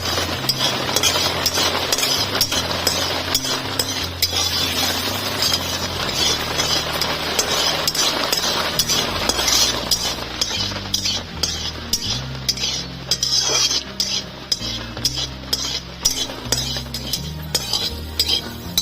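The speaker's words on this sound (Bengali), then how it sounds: "ফোড়নে দিয়ে দিচ্ছি দুটো কাঁচা লঙ্কা গোটা কালো সর্ষে নাড়াচাড়া করে নেবো" Green chilies and whole black mustard seeds are stirred in hot oil for a Bengali chire polao, with a metal spoon scraping and clinking against the pan in steady, busy strokes under a dense background.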